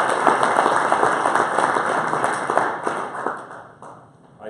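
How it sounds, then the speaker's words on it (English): A crowd claps steadily in a dense burst of applause that gradually thins and fades toward the end. "Can I get a big round of applause for Pat?"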